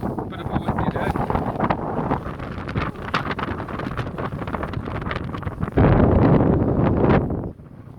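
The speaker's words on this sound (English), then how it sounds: "Bit of a windy day." Strong wind buffeting the microphone at Rainhill railway station, a loud, continuous rumbling roar with gusts that swell sharply near the end before dropping away.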